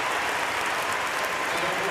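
Crowd applause rises in a Paralympic powerlifting arena at the Paris 2024 finals after a 90 kg attempt: a dense, steady wash of clapping that stays loud and continuous throughout.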